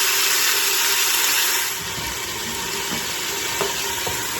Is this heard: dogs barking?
no